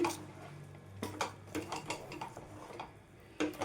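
A spoon stirs halwa made from urad dal and roasted gram in a pan, giving quiet, irregular scrapes and clinks against the metal with short pauses between strokes.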